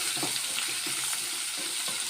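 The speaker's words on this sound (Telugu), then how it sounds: "ఉల్లిపాయలు కొంచెం పచ్చివాసన పోయే వరకు వేయించుకుందాం." Sliced onions and curry leaves frying in a pan give a steady, close sizzle with soft crackling and faint stirring scrapes throughout, with no voices.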